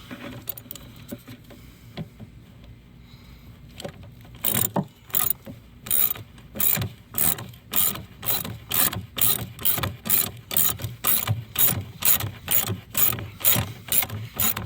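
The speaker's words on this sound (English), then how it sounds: "I'm just going to tighten it really tight with this 3/8 ratchet." A 3/8 ratchet tightens a bolt on a Hyundai Veloster 1.6L dual clutch transmission, with a few faint clicks and then a close, rhythmic series of about fifteen quick ratcheting strokes in steady back-and-forth bursts.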